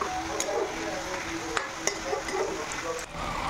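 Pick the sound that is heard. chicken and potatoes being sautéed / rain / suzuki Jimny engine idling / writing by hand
chicken and potatoes being sautéed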